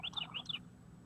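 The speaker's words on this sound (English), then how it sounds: "Hey, we got some bird" A bird calls outside around sunrise, giving a quick run of about four bright chirps close together, followed by a quiet pause.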